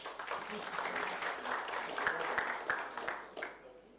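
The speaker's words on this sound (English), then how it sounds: "Please give him a round of applause" Audience applause at a business event in Malaysia, a steady moderate wash of clapping from a crowd, with a few sharper individual claps standing out near the middle and the sound easing toward the end.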